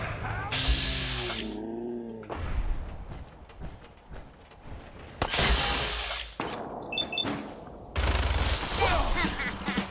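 Heavy weapon gunfire in the game Fallout 4 comes in loud, dense bursts of rapid shots, broken by short gaps and shifting battle noise, with no talking over it.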